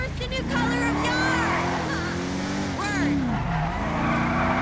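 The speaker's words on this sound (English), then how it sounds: "Both of the Windsors drift very well" Cars drift in GTA Online, with the luxury Windsor coupe sliding and sustained tire squeal rising and falling over a steady engine drone. Squeals bend in pitch through the turns, and a voice speaks over them.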